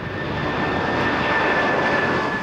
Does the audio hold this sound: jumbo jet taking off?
yes